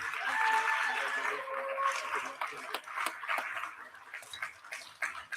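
An audience at a manufacturing graduation ceremony gives NDT graduates a warm round of applause, fading from a full wash of clapping into sparse scattered claps.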